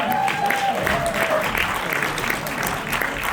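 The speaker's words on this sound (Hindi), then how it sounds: "जोरदार तालियों से स्वागत करें" Audience applause at a Hindi literary gathering welcomes a word-game team onto the stage, with steady, lively clapping from a sizeable crowd and a few voices mixed in.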